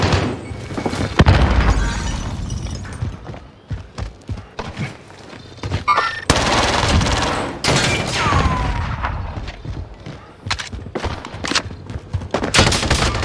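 Gunfire from Call of Duty Warzone in a Resurgence match: loud, dense bursts of automatic weapon fire and sharp single shots, with crashing impacts and explosive bangs scattered across the whole stretch.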